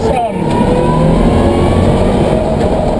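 Inside an electric car as it accelerates, a smooth, steady hum and road rumble build evenly with no gear changes, heard close and continuous for a few seconds.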